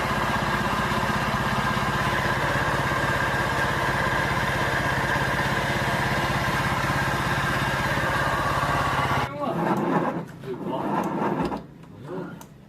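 A Honda Vario 125 scooter engine with a rough fault runs at idle with a steady, rumbling, buzzing drone for about nine seconds, then cuts out, leaving scattered clunks and handling noises nearby.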